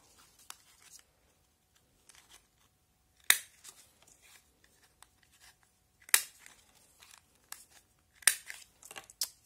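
Scissors or a cutter trimming and rounding the corners of paper for a pop-up album, giving sparse, crisp snips and rustles with a few sharper cuts spaced a few seconds apart, close and clear with no talking.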